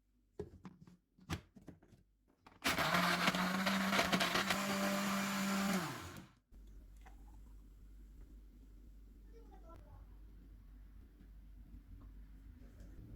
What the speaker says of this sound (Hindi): 2 टेबल स्पून चॉकलेट डालेंगे, 2 टेबल स्पून क्रीम, 1 कप दूध, आइस क्यूब्स डालेंगे और इनको ब्लेंड कर लेंगे